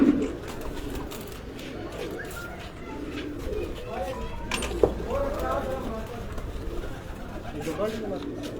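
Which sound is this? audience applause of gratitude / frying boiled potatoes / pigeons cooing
pigeons cooing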